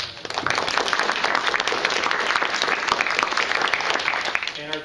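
Conference audience applauding the judges at a marketing analytics competition, a dense steady wash of clapping from a full room that swells quickly and holds for several seconds before tapering off.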